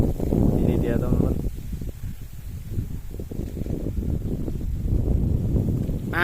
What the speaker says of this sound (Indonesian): Anginnya sangat kencang sekali dong.